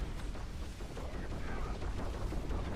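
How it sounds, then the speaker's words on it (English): Constant stream of explosions from Diablo IV's Rogue death-trap gameplay, forming a dense, unbroken rumble of booms and blasts with no pause. "Just hear explosions non-stop. Explosions forever."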